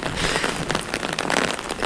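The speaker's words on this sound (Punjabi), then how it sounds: "ਭਾਰੀ ਜਿਹੜੀ ਮੀਂਹ ਹੈ ਉਹ ਸ਼ੁਰੂ ਹੋ ਗਿਆ" Heavy rain pours down in Chandigarh under dense dark clouds, a steady, loud, close hiss of drops spattering on surfaces with no break.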